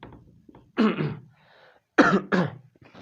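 Two bursts of throat clearing and coughing from a person with a cold, close and fairly loud, separated by a pause, with a softer cough starting at the end.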